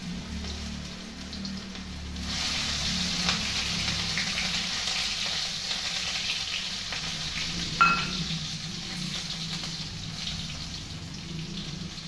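Green chillies dropped into a pan of frying spices and ginger, setting off a steady, close hiss of sizzling oil that swells after a couple of seconds and holds, with a brief clink partway through.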